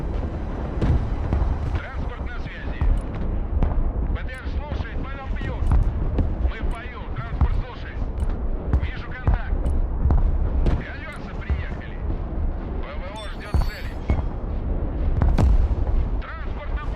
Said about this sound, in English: That volley to be over by now, but holy crap. Still going. Just fired like all of his missiles.